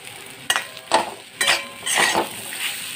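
A metal spatula stirs boiled, softened raw banana curry in a pan, giving about four distinct scraping strokes close by, with a faint sizzle in between and no talk.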